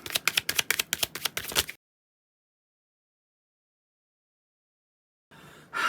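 A Shadowland Lenormand card deck is shuffled by hand in a quick burst of close, rhythmic card slaps lasting under two seconds, followed by silence and then faint rustling.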